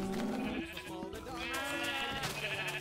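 Sheep bleating in the video game Minecraft, with a black sheep and a shorn sheep nearby; a few close, wavering bleats layered over steady game music, filling the short stretch without any talk.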